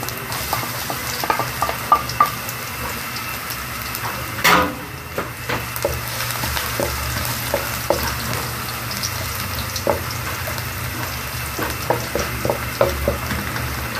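Garlic sizzles and fries steadily in a pan for a home-cooked Filipino dish, a continuous crackle broken by the occasional clink of a stirring utensil, with no talking.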